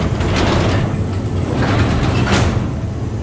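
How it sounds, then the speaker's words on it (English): A garage door rolls shut in a home garage, giving a steady, loud mechanical rumble and rattle that runs the whole time with no talking. "I'll close this garage door."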